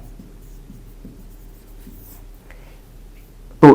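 Pen scratching on paper as a math solution is written by hand, soft rhythmic strokes close up in a quiet room, ending with a sharp louder knock.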